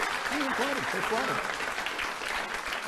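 Studio audience applause on a late-night talk show, a dense wash of clapping under a voice that speaks briefly near the start.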